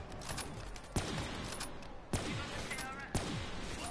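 Gunfire in a zombies video game, fired through a window: a few sharp shots spaced about a second apart over a busy, noisy game backdrop, with a voice talking underneath.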